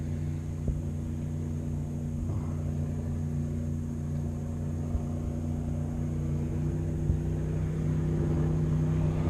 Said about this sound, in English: Motorboat.